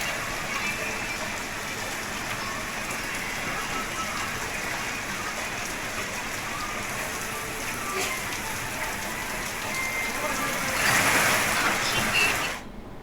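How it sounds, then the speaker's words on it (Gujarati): Heavy evening rain pours down in Gujarat, a steady, dense hiss of water on surfaces that holds evenly and swells briefly louder near the end. "સાંજ પડતા જ ધોધમાર વરસાદ શરૂ થઈ ગયો."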